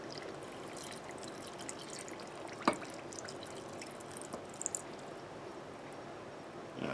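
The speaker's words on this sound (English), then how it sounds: "I'll add a cup of water to start with." Water pours steadily into a pan with sugar for making crystallized ginger syrup, with a faint, continuous splashing and a few small drips and clinks, no voices.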